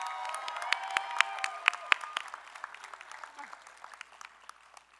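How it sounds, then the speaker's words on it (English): At a Los Angeles City College commencement, an audience applauds retiring faculty with dense, steady clapping. Sharp individual claps stand out early, then the applause slowly thins and fades. "let's give them a round of applause for their incredible contributions"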